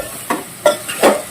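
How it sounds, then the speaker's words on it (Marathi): Moong dal and potato being stir-fried for upma in a home kitchen, with three short scraping, sizzling stirs of a spatula in the pan, close and fairly loud. "मूग डाळ आणि बटाटा परतून घेते"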